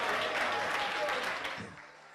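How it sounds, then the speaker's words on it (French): Audience applause at a stand-up comedy show, filling the room for over a second before tapering off sharply, with some voices mixed in. "On applaudit pour mon quartier, s'il vous plaît."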